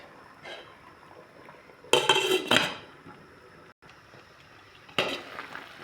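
A lid clattering onto a cooking pot of white pomfret fish soup with pechay, a loud metallic clink and rattle followed later by a second, lighter clank over a faint kitchen background.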